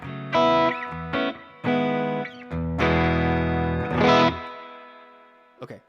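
An electric guitar played through effects pedals rings out in distorted, chorus-laden chords and bursts, separated by short pauses, with a few sustained notes fading out near the end.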